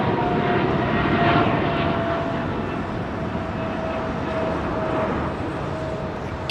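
Turkish Airlines Boeing 777 doing a touch-and-go at London Heathrow, a steady loud jet engine roar that holds constant throughout, with a faint whining tone running beneath.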